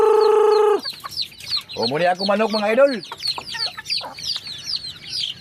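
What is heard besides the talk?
chickens clucking while being fed rice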